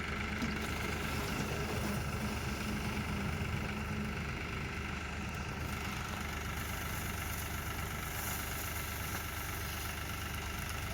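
A tractor engine idles steadily at close range, a continuous low rumble with a faint knocking texture that holds throughout with no talk.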